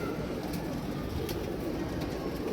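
Pigeons in a loft give soft, low cooing, steady and continuous close by, with no voices present.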